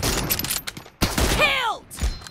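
An M24 sniper rifle fires in a video game, a single loud, close crack with a booming tail, followed by a whistling ring, then a softer thud.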